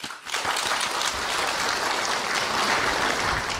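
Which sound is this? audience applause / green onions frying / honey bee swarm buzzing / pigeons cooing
audience applause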